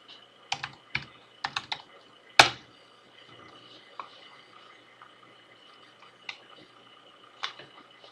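Keys on a computer keyboard clicked to enter a domain name for an Nmap scan with OS detection, heard as a few sharp, separate taps with short pauses, one louder strike, over a quiet room.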